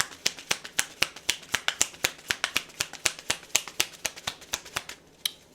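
Tarot cards are riffled and snapped down in a quick, steady run of crisp, close slaps and flicks, each sharp and clear, with a brief pause before one last snap.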